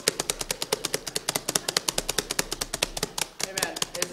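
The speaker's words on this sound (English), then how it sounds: "you're just hitting your keyboard" Rapid, loud clacking of a computer keyboard being hit, a dense run of sharp evenly spaced keystrokes in quick bursts with only a brief pause near the end, close to the microphone.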